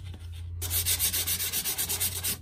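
A mailbox rubbed by hand with a small piece of fine 220 grit sandpaper, a rhythmic series of close, even scratchy strokes after a brief quiet start, with no talking.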